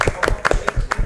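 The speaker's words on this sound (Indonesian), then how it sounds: "tepuk tangan buat kita semua" A small group claps briefly at an alumni gathering of an Islamic high school, producing a quick run of about five crisp, close hand claps in an uneven rhythm.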